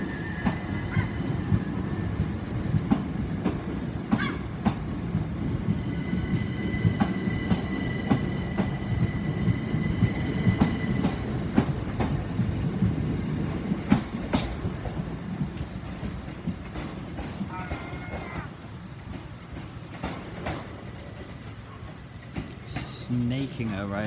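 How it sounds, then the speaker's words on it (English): Southern Class 377 electric train, unit 377416, moving through Eastbourne station on a service to Brighton: a steady, loud low rumble of wheels and traction runs throughout, with scattered clanks and a faint high whine. "377416 is about ready to depart with a 1440 Southern service to Brighton."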